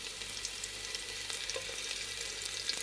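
Green chilies sautéing in a pan over low heat give a steady, even sizzle of fine crackle throughout, with no one talking.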